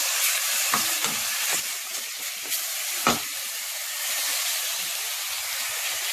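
Meat for spaghetti bolognese cooks in a pan with oil, hissing in a constant sizzle while a utensil clacks and scrapes a few times early on, then the frying continues alone.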